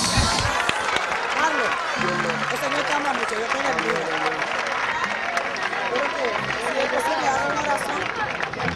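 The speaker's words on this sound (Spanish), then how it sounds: "Dale un aplauso a Dios." A church congregation claps and applauds after a sermon, a dense, steady patter of many hands with crowd murmur and a preacher's voice speaking over it.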